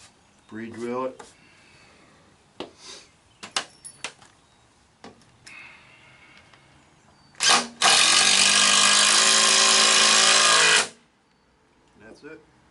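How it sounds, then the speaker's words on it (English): After scattered handling sounds and a brief voice, a power drill bores a pilot hole into wood for a porch swing, whirring loudly and steadily for about three seconds. "Pre-drill it."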